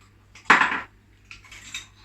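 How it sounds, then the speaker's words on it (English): Ginger being mixed into pumpkin pie filling in a bowl: a sharp clink of a utensil against the bowl, then a fainter scraping stir shortly after, close and without talk. "I'm going to mix in the ginger"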